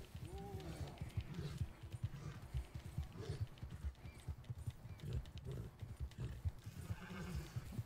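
A horse whinnies and hooves clip-clop rapidly in the Red Dead Redemption 2 video game, close and fairly quiet, with a neigh near the start and galloping thuds throughout.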